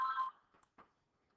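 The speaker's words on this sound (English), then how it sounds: "sorry about that ringing noise." A telephone rings briefly at the start, a short electronic trill, followed by a few faint clicks and knocks in an otherwise quiet room.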